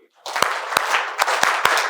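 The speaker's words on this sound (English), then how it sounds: "Do the clap one time" An audience at a masterclass claps in unison, sharp synchronized claps landing in a quick rhythmic pattern over a background of murmuring and scattered clapping.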